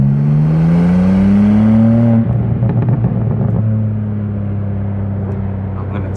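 A 2024 BMW M2 engine accelerates hard, heard from inside the car as a loud, rising drone that climbs steadily, drops sharply at a gear change, then settles into a lower, steady pull.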